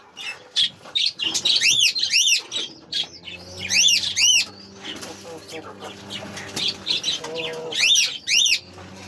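Pigeons in a loft give repeated high, squeaky calls in short bursts, fairly close and loud, with softer low cooing and faint rustling between them.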